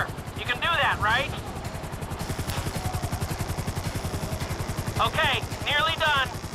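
A helicopter hovers in GTA 5, its rotor beating in a fast, even pulse that holds steady underneath, broken by brief sharp bursts near the beginning and again toward the end.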